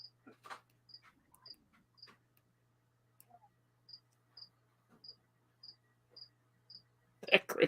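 A cricket chirps in short, evenly spaced high pulses, about one every half second, steady and moderately close in a quiet indoor setting, with a few soft handling knocks and a louder rustle at the end.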